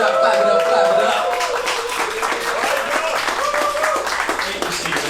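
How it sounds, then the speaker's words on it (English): Applause and clapping from a crowd, steady and fairly loud, with talk and cheering mixed in throughout. "Let's clap it up, clap it up, clap it up."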